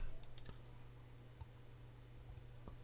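A few light keystrokes tap on a computer keyboard as a short phrase is typed, sparse, faint and close over a low background hum.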